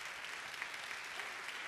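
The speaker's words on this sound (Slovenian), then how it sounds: "dajmo en aplavz, prosim" An audience at a live show gives brief, steady applause, a dense even patter of clapping heard alone at moderate distance.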